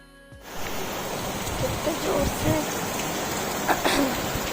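Steady heavy rain pours down in a dense, continuous hiss, close and loud, with a few drops and faint voices in the background.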